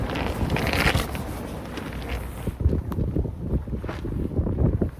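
Fierce wind roars outdoors around a tarp shelter, gusting against the microphone as a constant buffeting rumble with occasional sharper crackles.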